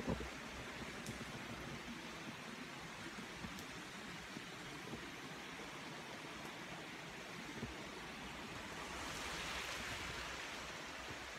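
Creek water flows steadily beside a campsite on the Bear Creek Trail, a continuous soft rushing wash that swells slightly near the end, with no talk.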